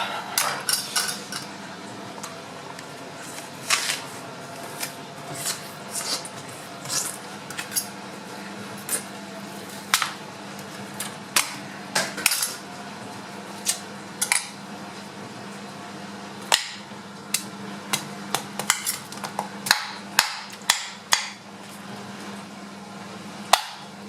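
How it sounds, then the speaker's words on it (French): A knife cuts an apple into a rabbit shape, giving a long run of sharp, irregular clicks and taps of blade on board, close and fairly loud over a steady low hum, with no talking. "là j'ai ma pomme, on va commencer à le découper"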